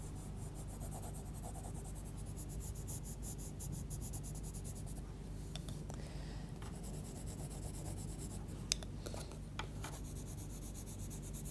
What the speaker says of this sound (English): So that's why we're using the side of the pencil.